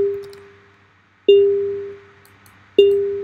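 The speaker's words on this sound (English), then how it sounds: "This is how you can generate kind of like a bell sound." Synthesized bell tones from an oscillator triggered by a clock in a node-based audio patch: two clean, bright strikes, each decaying slowly, following the tail of an earlier ring, with no talk.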